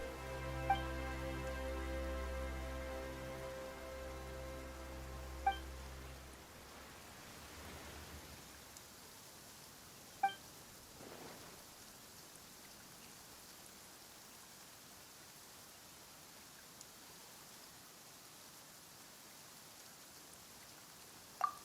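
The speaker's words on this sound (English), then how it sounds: "Why is it raining all of a sudden?" Soft, steady rainfall in the video game Genshin Impact hisses evenly throughout, with a low droning tone in the first few seconds and a few faint clicks scattered across the recording.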